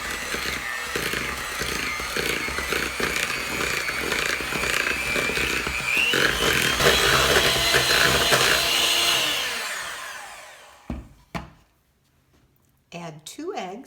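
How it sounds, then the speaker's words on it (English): An electric mixer whirs steadily through cookie dough made with brown sugar and vanilla, running loud and close for about ten seconds before winding down and stopping, followed by a few clunks. "Mix with the mixer."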